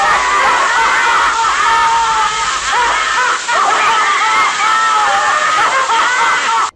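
A collection of handcrafted sailor figures activated together bursts into loud, continuous, layered shrieking laughter, with many piercing voices overlapping throughout.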